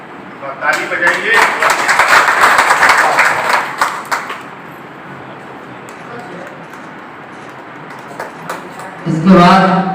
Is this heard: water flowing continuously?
no